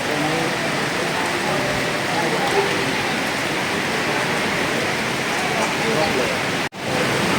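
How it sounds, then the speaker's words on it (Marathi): Dense, steady rain roars evenly throughout, a broad hiss that stays loud until a brief dropout near the end. "खूप पाऊस आहे"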